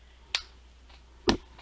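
Two sharp, crisp hand claps, about a second apart, close and fairly loud against a quiet background.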